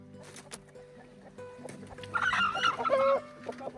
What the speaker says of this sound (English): The chickens are actually jumping over the fence into my garden and like digging up the garlic bulbs